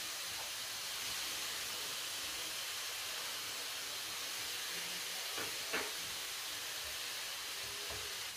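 Garlic clove sizzling in a hot pan with other frying ingredients while cooking a stuffing, a steady soft hiss throughout with a couple of faint clicks and crackles.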